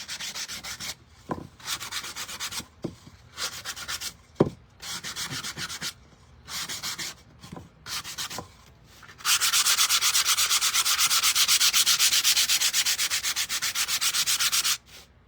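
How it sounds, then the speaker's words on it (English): Wood rubbed by hand with 80 grit sandpaper for a sign, starting as short scratchy strokes with pauses and then running into a steady, loud, continuous rasping stretch. "I'm just giving the inside a little sand also, just to kind of scratch it up a little."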